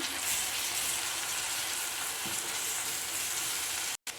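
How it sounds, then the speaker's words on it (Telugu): Ginger garlic paste sizzles in a frying pan while being stirred for egg curry, a steady soft frying hiss with faint scraping, fairly quiet and continuous. "మళ్ళీ ఒకసారి కలుపుకోవాలి"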